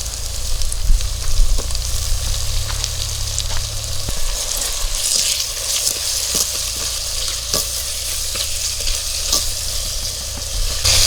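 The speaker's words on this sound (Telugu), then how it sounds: "టమాటా ఒక్కలు వేసుకొని మంచిగా ఉడికించుకోవాలి." Tomato pieces for a dried prawn curry fry in a pan, a loud continuous sizzle close up with repeated scraping clicks of stirring throughout and no talking.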